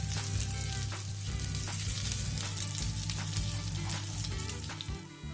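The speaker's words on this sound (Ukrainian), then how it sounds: "Обсмажуємо наші котлетки з обох сторін до золотистої скоринки." Fish cutlets frying in a pan give a steady, dense sizzle with crackling pops and a low hum beneath, continuous and close throughout without any voices.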